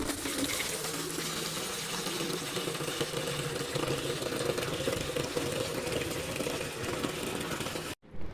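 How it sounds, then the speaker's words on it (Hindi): Water from a tap pours steadily into a bucket in a loud, continuous rushing splash that lasts several seconds and then cuts off abruptly near the end. "अब इस बाल्टी के अंदर पानी भर लेता हूँ।"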